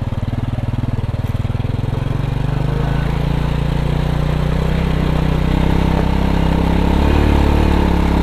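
A Honda Supra motorcycle engine putters at idle, then pulls away on light throttle, its loud, close, rhythmic thrum rising into a smoother drone.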